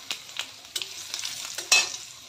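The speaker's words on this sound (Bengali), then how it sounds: "সোয়াবিনটা অলরেডি কিন্তু ভাজা হচ্ছে" Soybean chunks frying in a pan for a vegetarian dish, a faint crackling sizzle broken by several sharp scrapes and clinks of stirring, the last one louder.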